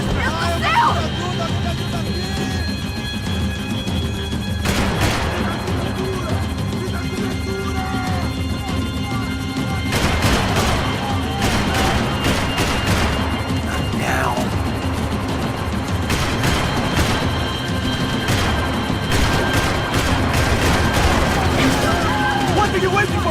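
Repeated gunshots in Max Payne 3 ring out in scattered bursts and volleys over a crashing, chaotic action soundscape, with shouting voices and babble throughout.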